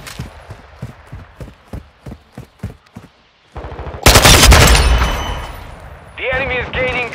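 Killstreak gun fire in Call of Duty: Modern Warfare II, first a fast run of sharp, evenly spaced shots, then a pause and a loud, dense burst of heavy automatic fire and blasts, followed by higher whining game effects.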